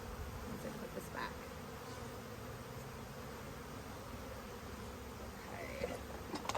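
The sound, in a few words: honey bees buzzing around hive frame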